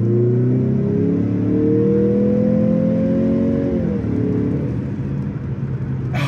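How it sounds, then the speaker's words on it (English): Mazda CX-50 2.5 Turbo in sport mode pulls hard through a lower gear, engine note climbing steadily with a whirring turbo spool, then easing off near the end; loud and close, no talking. "Oh God, you can hear that turbo like spindle off."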